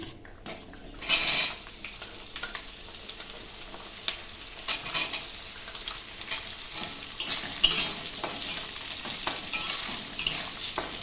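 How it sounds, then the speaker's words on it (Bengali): Green beans frying in white oil with a little ghee, a steady crackling sizzle with occasional stirring scrapes and clinks of a utensil against the pan, close and continuous, no talking. "এবার সবজিগুলো ভেজে নেবো। প্রথমে দেবো বিনস,"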